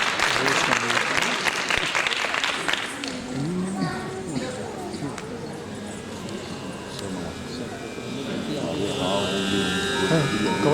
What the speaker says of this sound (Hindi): तालियों के साथ आपका अभिवादन।